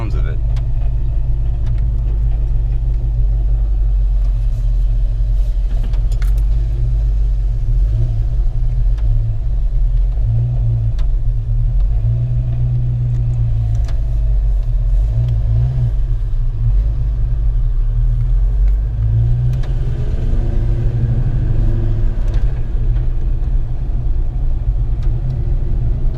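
A 1993 Mustang Cobra with a TKO600 transmission is driven, its cabin filled with a loud, constant low engine and road rumble that rises and falls slightly, with faint talk underneath.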